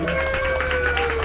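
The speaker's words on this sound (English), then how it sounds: "give my helpers one more round of applause" A crowd at a Wild West show at Heber Valley Railroad gives the show helpers a steady round of applause, a dense, even clatter of clapping that runs throughout with voices mixed in.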